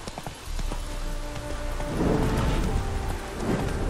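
Horse hooves in The Witcher 3 video game clop steadily under a dense rushing backdrop like rain, with a soft low rumble throughout.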